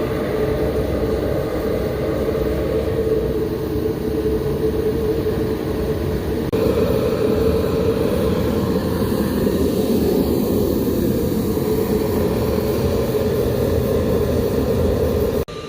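Homemade forge burner roaring with a steady, loud, continuous gas rush and a slight step up in intensity partway through, no voices.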